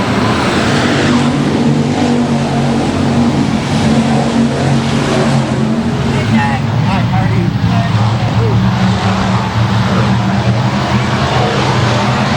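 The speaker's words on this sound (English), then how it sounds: "down the back straightaway, I assume that it's Rossum who has the race lead as they approach turn number 3" Race cars roar around the Boothill Speedway track in a continuous loud engine drone with rising and falling passes, while a commentator talks over the noise throughout.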